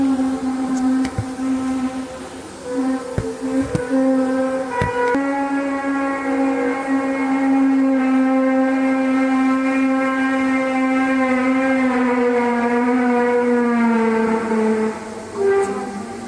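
Mysterious trumpet-like sounds in the sky, recorded in British Columbia, Canada, form a sustained, droning brassy wail that slowly bends in pitch over a long stretch, with a few faint knocks and background noise and no one speaking.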